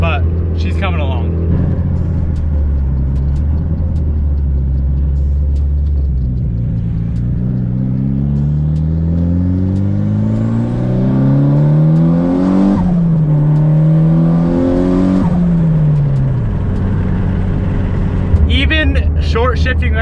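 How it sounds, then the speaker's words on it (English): A tuned car accelerates hard, its engine note rising and dropping sharply with each quick short shift, a loud continuous rumble heard from inside, with someone talking briefly near the end. "Short shifting like a mofo, this thing is still pulling super hard."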